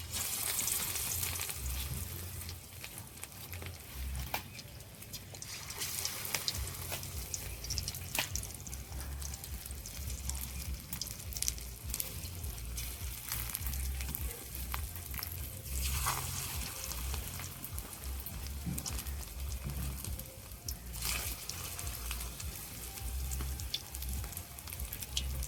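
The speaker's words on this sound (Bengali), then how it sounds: "একটা একটা করে মাছের পিস নিয়ে আমি এরকম করে ছেড়ে দেব।" Fish pieces frying in oil in a kadai give a continuous soft crackle and sizzle with scattered pops, fairly quiet and steady.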